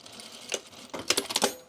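Domestic sewing machine stitching a zipper on cargo pants without a zipper foot, a short quiet run of rapid needle clatter in a few bursts.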